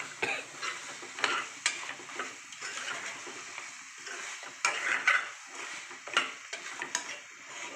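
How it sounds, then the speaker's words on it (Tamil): Mutton gravy, hotel style, stirred and fried in a pan: a spoon scrapes and clinks against the pan in irregular strokes over a continuous soft sizzle, close and moderately loud, with no talking. "இப்படியே நல்லா பரட்டி விடுங்க"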